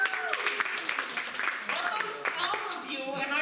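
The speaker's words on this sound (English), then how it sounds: "Just round of applause." Applause in a stand-up comedy class student showcase: a room of people clapping, with scattered voices and a bit of chatter mixed into the steady patter of hands.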